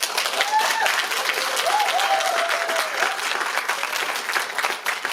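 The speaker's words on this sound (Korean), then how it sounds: "박수 한번 쳐주세요." A crowd applauds at a Shakespeare theatre production, dense, continuous clapping close by with a few voices calling out over it.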